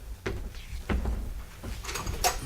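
A door opening in an old detective radio drama, heard as a few soft knocks and clicks spread across a low, noisy background, with faint rustling and a brighter creak near the end.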